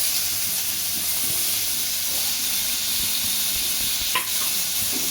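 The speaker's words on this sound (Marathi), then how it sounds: "आणि पायनॅपलचे काप तुपावर जरा परतायचे आहेत." Pineapple slices frying in ghee in a pan on low heat, giving a steady, loud, close sizzle and hiss that runs the whole time, with a brief scrape of stirring near the end and no speech.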